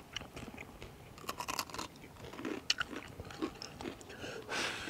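Close, crunchy chewing of a cooked crawfish tail, with irregular bites and crackles that come and go over a quiet background.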